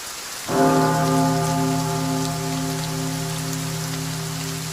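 Steady rain falling, a dense, even hiss that carries throughout, joined after a moment by a low sustained droning tone.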